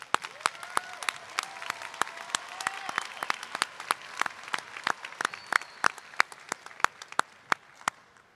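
People at a high school graduation ceremony applaud, with a soft, steady patter of many hands under sharper, louder individual claps that ring out near and irregularly, and a few quiet voices mixed in.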